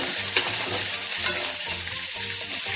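Spices and dried red chillies fry in hot oil for a North Karnataka style thin rasam tempering, a steady close sizzle with soft scraping and stirring strokes of a spoon, no talk.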